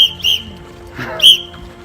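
Two sharp, shrill whistle blasts from a guard at Mysore Palace, India, one early and one a second later, with soft background murmur between them.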